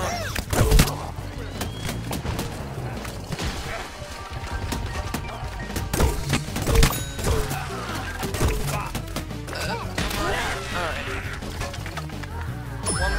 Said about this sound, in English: chili bean bomb!